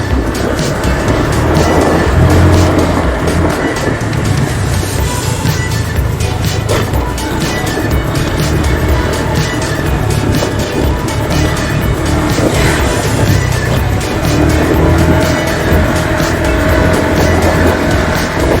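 A Honda Click motorcycle being ridden, its engine droning continuously and loudly under heavy wind rush throughout, with no talk.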